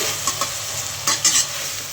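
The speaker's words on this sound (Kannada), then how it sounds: "ಲೂಕೋಸು ಕ್ಯಾರೆಟು ನವಿಕೋಸು ಇಷ್ಟು ಮೂರನ್ನು ಹಾಕ್ಕೊಂಡು ಫ್ರೈ ಮಾಡ್ತಾಯಿದ್ದೀನಿ" Cabbage, carrot and knol-khol fry in a pan with a steady close sizzle, broken by a few sharp scrapes and clinks of a stirring spoon; no voices.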